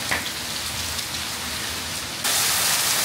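A heavy tropical downpour pours down at a Khao Lak resort in Thailand, steady hissing rain that suddenly swells into a louder, denser roar partway through.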